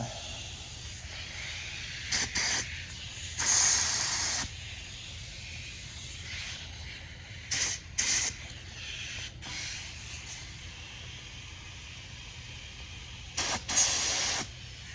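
Short bursts of compressed air blasted into a 1990 Kawasaki ZX1100C front brake caliper to force the pistons out, three separate loud hissing blasts over a quiet background hum, the longest about a second.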